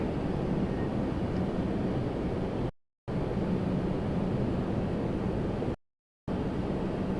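An Air Canada regional jet on final approach to land at Toronto Pearson gives a steady, distant broadband roar mixed with wind. The sound is cut by two short silent gaps, and no one speaks.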